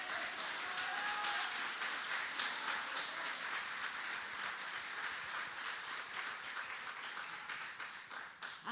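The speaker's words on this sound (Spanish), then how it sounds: "Den un aplauso al Señor." Applause from the congregation at a church women's retreat, a sustained patter of many hands clapping together at moderate distance, fairly soft and continuing steadily before tapering off near the end.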